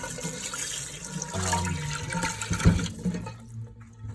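Water runs from a kitchen tap as a wood fiber cleaning pad is rinsed and squeezed, a steady splashing stream that swells midway, then cuts off and leaves a quiet tail.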